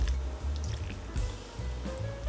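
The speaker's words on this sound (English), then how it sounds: "It's a bit thick, so I'm going to add the vinegar." Apple cider vinegar poured into thick mustard while making a sandwich, giving soft wet dripping and squishing sounds that continue steadily and close by without talk.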